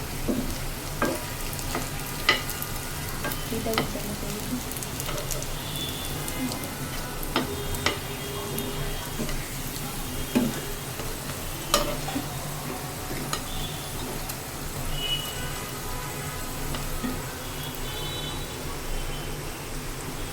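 Chicken cooks in a pot over a clay stove with a steady, even sizzle and frying hiss throughout, punctuated by occasional faint clicks and taps, with no voices.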